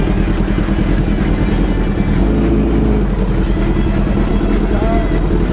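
A Honda CBR1000RR with an aftermarket exhaust rumbles steadily in a continuous loud, low drone while riding, the engine note holding fairly even throughout.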